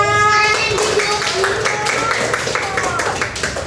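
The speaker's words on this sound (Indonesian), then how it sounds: "tepuk tangan buat kelompok 3" Children clapping in a primary school classroom for a student group, a busy patter of hand claps with young voices chattering and calling over it throughout.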